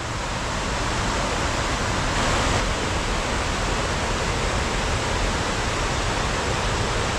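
Autumn waterfall on the River Okemont on Dartmoor, a dense, constant roar of falling water close by, steady and unbroken with no voices.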